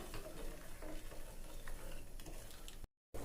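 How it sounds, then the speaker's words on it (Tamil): Jaggery dissolves in water as it is stirred in a pan, a dense, steady scraping and bubbling hiss that runs unbroken before cutting out briefly near the end. "இப்போ வெல்லத்தை கரைச்சிக்கலாம்."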